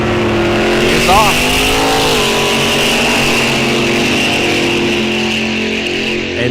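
A 1970 Plymouth Duster with a small block Mopar V8 launches on a drag strip, a loud roaring engine climbing through gears with tire noise, while an announcer talks over it.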